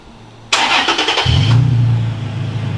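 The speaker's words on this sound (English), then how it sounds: "So it has that V6 rumble to it." A Toyota Tacoma V6 fitted with a new Magnaflow Overland exhaust cranks with a brief starter whir, then catches into a low, steady rumbling idle close by.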